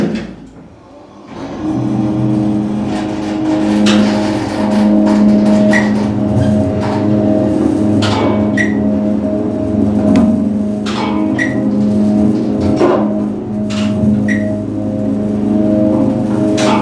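Dover Impulse hydraulic elevator motor running in a parking-deck lift, a loud steady hum with strong tonal whine, punctuated by faint knocks and clicks as the car travels.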